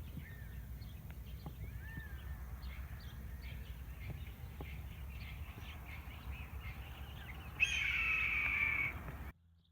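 Red-tailed hawk parents guarding their nest give a long, harsh, raspy scream from a moderate distance, preceded by faint scattered calls over a soft outdoor background.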